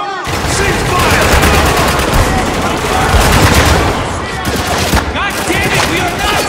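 Intense sustained gunfire in the Spec Ops: The Line war game, dense overlapping automatic bursts at close range, with shouted voices mixed into the battle noise.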